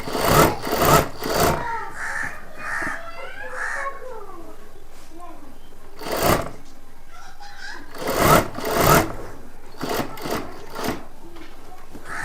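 A sewing machine stitches a double seam along a kurta's button placket. It runs in short, loud bursts separated by pauses, and a cat meows several times in the quieter gaps.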